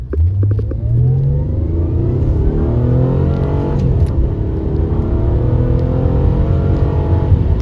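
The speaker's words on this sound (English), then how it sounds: "I'll take it up through some gears here" A 2002 Acura CL with a 3.2L engine revs up through the gears, the engine note climbing repeatedly in steady loud sweeps with brief drops at each shift, close and continuous.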